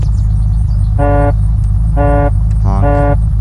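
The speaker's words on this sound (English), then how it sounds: "Honk. Honk." Car horn in the video game Unturned, three loud evenly spaced honks over a low, constant engine rumble, no talking.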